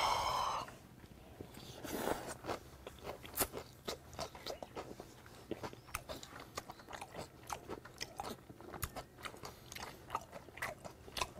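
Someone chews crunchy raw onion with chicken breast tartare dressed with garlic and sesame oil, close and quiet, with steady crisp bites and wet mastication repeating over the stretch.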